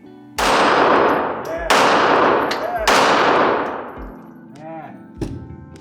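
Sig Sauer P365 .380 pistol fired at an outdoor shooting range: four loud, sharp gunshots spaced about a second apart, each with a ringing decay, followed by a fainter fifth shot.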